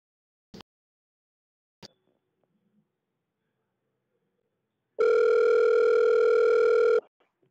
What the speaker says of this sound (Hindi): इस पर कॉल करेंगे